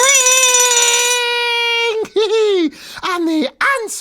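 A loud, piercing smoke alarm rings steadily and continuously for about two seconds, then breaks into short, choppy repeated beeps.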